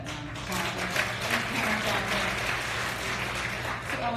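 An audience at the Marie Claire Power Trip 2018 event gives steady, moderately loud applause that lasts several seconds, with faint talk underneath.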